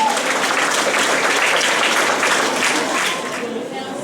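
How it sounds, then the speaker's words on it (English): A loud, dense round of audience applause for a speaker at a 2018 St Peter Claver graduation, many hands clapping steadily before easing slightly toward the end, with faint crowd voices mixed in. "Kindly give Miss Martinez another round of applause"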